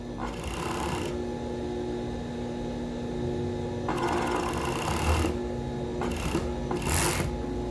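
A sewing machine runs in several close bursts while gathering a ruffle with the presser foot, stopping and starting in uneven runs over a steady background hum. No one speaks.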